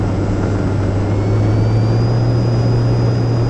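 RC T-28 Trojan model airplane making a low pass at reduced power, a steady droning engine note holding fairly loud and even with a slight rising whine.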